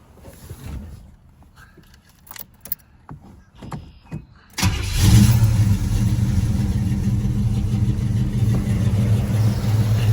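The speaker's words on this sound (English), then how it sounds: "It's 44 degrees, absolute cold start." A 1979 Chevy Monte Carlo is cold-started on a 44-degree morning. A few clicks and cranking come first, then the engine catches with a loud burst and settles into a steady, rumbling idle that runs to the end, close and alone.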